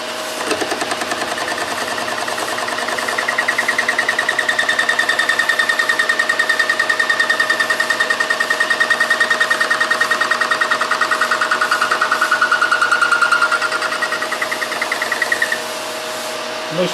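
An old Oliver 25A wood lathe turns metal, a steady motor drone with a rising, wavering cutting whine that swells in the middle and fades near the end, close and continuous with no talking.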